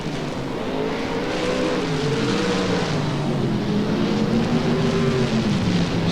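Sprint cars roar around a dirt track during a B-main race, a dense, steady engine drone with rising and falling pitches from several cars passing at once, loud and continuous.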